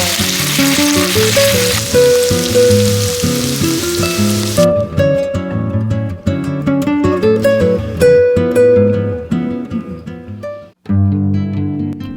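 Bacon sizzles in a pan with a hissing, crackling wash of frying for the first few seconds under loud background music, and the music carries on alone afterward.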